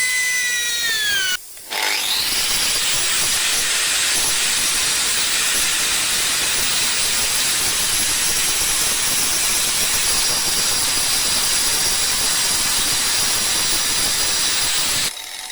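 A diamond blade cuts along a marked line on a stone moulding, a loud, harsh, continuous grinding hiss that runs almost without a break after a brief dip near the start.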